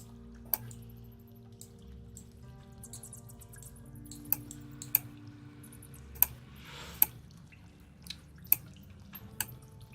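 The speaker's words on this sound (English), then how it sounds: "Fulgrim, water's falling from a large crack in the ceiling here and flowing down" Water drips and falls from a large crack in a cave-like ceiling, heard as sparse faint sharp drips over a low steady rumbling ambience.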